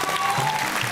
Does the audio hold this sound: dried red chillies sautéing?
no